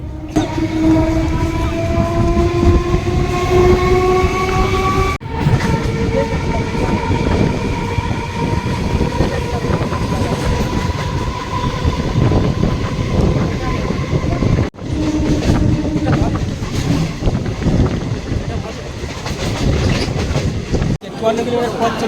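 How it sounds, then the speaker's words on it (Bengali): A Basirhat–Sealdah local train runs into platform one at Dum Dum Cantonment with loud, continuous rumbling and wheel clatter, rising motor whines and a few sharp joint knocks throughout. "এখন ট্রেন পৌঁছালো দমদম ক্যান্টনমেন্টের এক নম্বর প্ল্যাটফর্মে"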